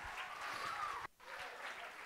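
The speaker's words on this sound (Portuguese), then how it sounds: "Pode aplaudir, pode aplaudir, pode aplaudir." An audience at a school nanotechnology olympiad claps steadily in a dense patter of applause, briefly cut off midway before resuming, fairly close.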